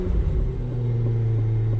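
Low, steady rumble from a RAM TRX pickup's engine breathing through a Quicksilver aftermarket exhaust, a deep droning tone held evenly and close throughout, with no talking.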